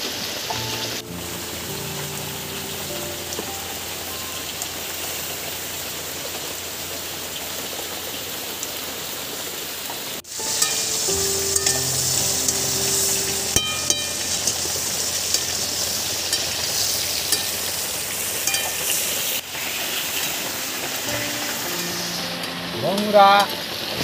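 Pointed gourd (potol) fries without oil in a pan, giving a steady, soft sizzle for a long stretch, with occasional stirring scrapes and clatter.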